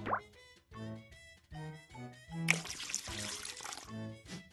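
A cup of water pours into a mixing bowl in the Max and Ruby baking game, a short watery splash and trickle rising over light cheerful background music.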